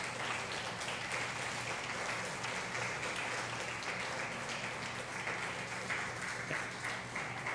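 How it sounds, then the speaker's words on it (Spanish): A congregation applauds the men during a Sunday morning church service, a dense, even wash of clapping that continues steadily for several seconds with no speech over it. "Vamos a reconocerles con un aplauso a los varones esta mañana, Angélica."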